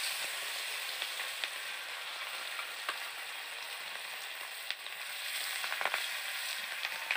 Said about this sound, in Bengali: দিয়ে দিলাম মাছ।